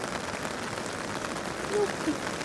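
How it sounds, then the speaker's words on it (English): Heavy rain pours onto a camping tent and a guyed-out tarp shelter, making a steady, dense hiss throughout with a couple of slightly louder patters near the end. "This is some proper rain."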